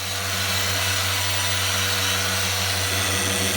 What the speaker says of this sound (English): By using a dual action polisher, it gets much better results than just doing it by hand.